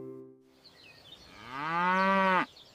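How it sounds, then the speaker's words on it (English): A single cow moos in one long, rising bellow that swells and then cuts off abruptly, heard alone after a soft lead-in tone. "This is a cow."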